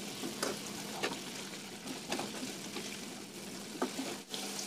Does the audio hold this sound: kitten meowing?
no